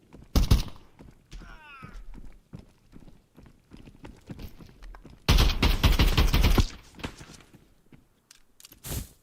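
Video game shootout gunfire in a multiplayer extraction shooter: scattered sharp shots early, then a loud sustained burst of rapid fire midway and one final crack, with faint game ambience between.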